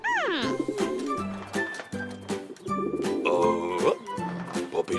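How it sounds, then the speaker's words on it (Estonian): Pigeon cooing in an animated cartoon, several soft rolling coos in a rhythmic series, close and clear, interleaved with cartoon voices talking and sliding musical tones. "Tuvi on tagasi."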